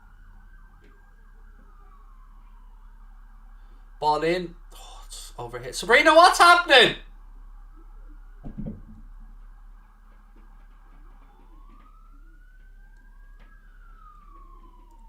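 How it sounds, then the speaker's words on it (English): A distant emergency siren wails up and down outside in a housing estate, fading in and out, while someone shouts and speaks loudly in the middle. "there's sirens going off everywhere in my estate"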